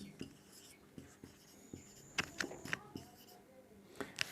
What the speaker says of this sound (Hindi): इस स्टेटमेंट को मैं यहाँ पे लिखता हूँ